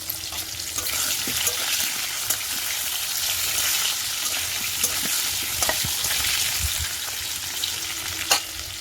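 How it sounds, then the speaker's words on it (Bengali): Whole potatoes frying in oil over a wood-fired clay stove, a dense, steady sizzle close up with occasional pops and stirring clicks, no talk. "আলু ভাজতে আছে, এখন গোটা গোটা আলু দিয়ে রান্না করতে হচ্ছে মাংসটা।"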